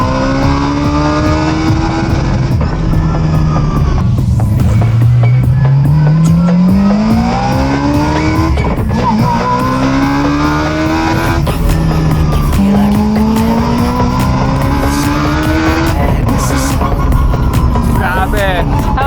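A 26B rotary-engine Mazda RX-7 drift car screams through a test run, its wailing engine rising and falling with repeated revs while tires squeal and skid loudly and continuously.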